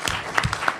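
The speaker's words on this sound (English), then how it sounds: "Round of applause." An audience applauds at the close of a business panel talk on social entrepreneurship, a brief burst of scattered claps, fairly close and clear.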